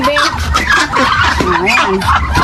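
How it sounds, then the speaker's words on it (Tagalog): Ducks squabbling and fighting in a breeding pen, a dense run of loud, overlapping honking and gobbling calls close by, continuous for a couple of seconds. "Ayan, nagsasabong pala po ang bibe."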